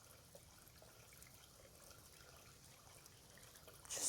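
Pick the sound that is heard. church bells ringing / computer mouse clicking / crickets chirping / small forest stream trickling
small forest stream trickling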